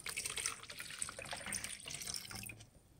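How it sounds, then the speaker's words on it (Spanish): Water is poured into a container to fill it halfway, for a homemade mosquito, fly and cockroach trap: a steady, close splashing trickle that fades near the end, with no talking. "Vamos a poner el agua."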